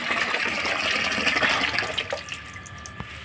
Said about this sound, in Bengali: দাঁড়াও, বালতিটা ভর্তি হয়ে গেছে।